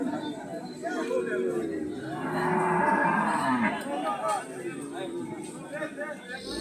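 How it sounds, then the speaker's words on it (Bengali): A large Friesian cross cow moos long and low at an outdoor cattle market, close by. Steady crowd chatter and people talking run underneath throughout. "এটি একটি বড় জাতের ফ্রিজিয়ান ক্রস জাতের গরু।"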